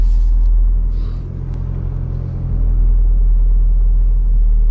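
A car rolls slowly into a parking bay at full steering lock, its engine giving a steady low rumble close by with a slight dip in level partway through, and no talking.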